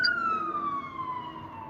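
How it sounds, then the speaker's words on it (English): Siren from an ambulance passing outside, a single long wail slowly falling in pitch as it moves away, fairly loud and clear with no talking over it. "That was the ambulance."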